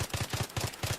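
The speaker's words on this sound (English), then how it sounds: "Switch it over to the burst fire mode." Burst-fire MP5 gunshots in Battlefield 3, loud sharp reports grouped in quick two- and three-shot clusters with short gaps between bursts, close and dry.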